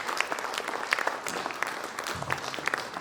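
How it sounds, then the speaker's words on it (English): Audience applause at a corporate HR-EHS conference felicitation in Vadodara, a steady patter of many hands clapping in a hall, moderately loud and sustained throughout, with no talk over it. "Let's give a huge round of applause for both seniors."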